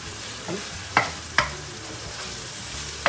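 Food being stirred in a sizzling frying pan, a constant fry hiss punctuated by a few sharp scrapes and clinks of the utensil against the pan.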